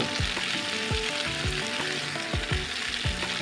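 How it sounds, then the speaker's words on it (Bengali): Ivy gourd (kundri) and potato fry in a pan while being stirred, a steady close sizzle broken by repeated scraping strokes of a spatula, with no talking. "এটাকে ভালো করে নাড়তে থাকবো ভাজতে থাকবো"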